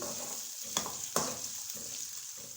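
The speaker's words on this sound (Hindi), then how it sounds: "प्याज को हम हल्का ब्राउन कर लेंगे" Onions browning in a pan for a beef liver masala, a steady close sizzle with a couple of sharp crackles or utensil taps and no voices.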